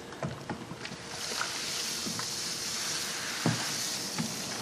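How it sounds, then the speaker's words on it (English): Crushed grain is stirred into hot water for an all-grain Kolsch mash. The result is a steady wet sloshing hiss with soft irregular knocks and splashes, close and continuous, and no talk over it. "all I'm doing is mixing the grain in to make sure there's no dough balls"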